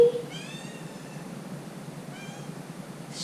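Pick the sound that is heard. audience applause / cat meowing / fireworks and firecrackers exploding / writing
cat meowing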